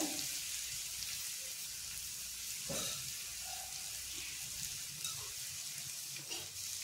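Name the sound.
dry salted bangda (mackerel) frying in a covered pan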